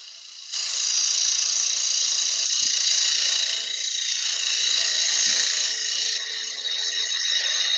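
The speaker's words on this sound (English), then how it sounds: "I'm just going to use a barring tool just to clean up the end of this." A wood lathe turns a goblet blank while a parting tool cleans up the end, giving a steady, close scraping hiss with slight variations as the cut proceeds.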